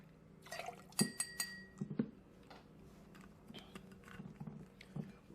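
Ketel One Citron lemon vodka poured for a cocktail, a faint close trickle with light glass clinks and taps, quiet throughout.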